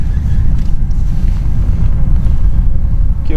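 Steady wind buffets the microphone on a small boat fishing shallow brush in 49-degree water, a continuous low rumble with gusty swells and faint water sounds throughout, no voices.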